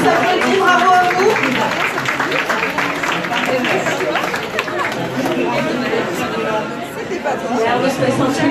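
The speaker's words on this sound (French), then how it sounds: "Allez Nantes, on s'applaudit, bravo à vous." An audience applauds at a Nantes entrepreneurs' fair, with loud, dense clapping running throughout and heavy crowd chatter and voices mixed in.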